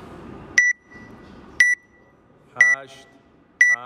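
Countdown timer sounding four short, sharp electronic beeps about a second apart, close and loud, with a voice talking softly between them.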